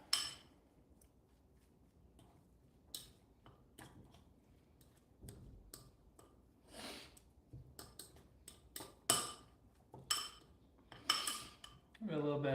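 Utensils clink and scrape against a bowl while cheese is stirred into tuna wrap filling, a run of irregular sharp taps and clatters, some loud and close, over quiet room background.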